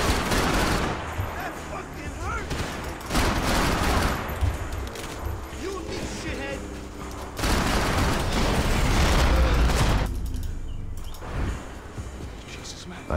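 Gunfire in the video game Max Payne 3, loud bursts of rapid shots in several clusters layered with game effects and music, with a voice talking at points.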